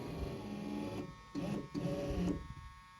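Rear power window motor in a 1978 Mercury Marquis Brougham parts car, its detached arm loose, running full travel: a steady electric whirring drone that cuts out briefly twice and restarts, close and continuous for about two and a half seconds.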